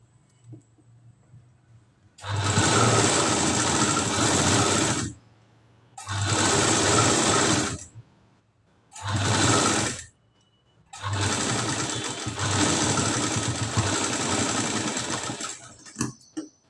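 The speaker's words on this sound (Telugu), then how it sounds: "ఇలా నెక్ చుట్టూరా పాదం తేడాతోటి మనము పైపింగ్ అయితే వేసుకుంటూ రావాలి" Sewing machine stitching piping around the neck of a katori blouse, running in four loud close bursts of steady whirring separated by short pauses, with no talk.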